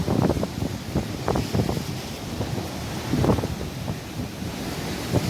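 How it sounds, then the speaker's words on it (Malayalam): Sea waves break and wash on the shore during beach fishing, a continuous close surge with rhythmic swells, buffeted by wind on the microphone and with no talking. "അത്യാവശ്യം തിരയൊക്കെ ഉണ്ട്"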